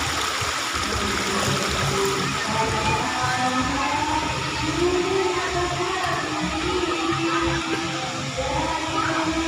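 Shallow, knee-deep stream water flows steadily, a broad continuous rushing and trickling wash that stays close and even throughout with no pauses.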